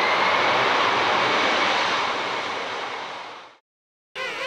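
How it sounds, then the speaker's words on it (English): Jumbo jet engines roar loudly in a broad, steady wash of sound that fades out, then cuts off abruptly before another sound begins. "Just the roaring sounds of jumbo jets at work."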